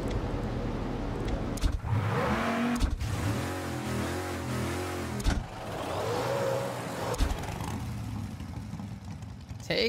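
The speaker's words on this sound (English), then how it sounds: "Oh my god, why does the taxi sound insane?" Taxi engine in Mafia: Definitive Edition revving hard, a mid-pitched motor surging and falling in repeated waves, loud and close, with a few sharp breaks and voices talking briefly over it.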